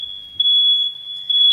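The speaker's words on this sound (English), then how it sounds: "Our alarm keeps going off." A smoke alarm emits a loud, steady high-pitched electronic tone that holds throughout, with brief swells at the start and again near the end, and no talking.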